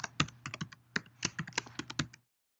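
A password being typed on a computer keyboard: a quick, uneven run of crisp key clicks, close and clear, lasting about two seconds before it stops into silence, with no talking.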